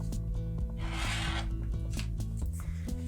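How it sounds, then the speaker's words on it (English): Scissors or a rotary cutter trimming red quilting fabric on a cutting mat for pieced Christmas ornaments, a brief rasping cut in the middle of close, quiet handling sounds with no talk. "I'm going to go just on my little cutting mat here, and I'm going to trim this up."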